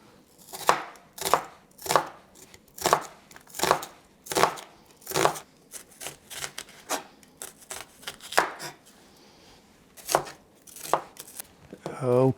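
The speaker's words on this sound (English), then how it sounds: "Let's go and slice the onions." A knife slices through a very large onion on a cutting board, with crisp, close, regular chops in a steady rhythm, a few faster strokes between them, and quiet pauses.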